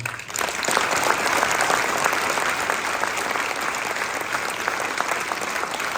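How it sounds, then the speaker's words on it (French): Loud, sustained applause from a large crowd, steady clapping filling the whole stretch after a brief quiet start. "je voudrais que vous le saluiez tous en applaudissant."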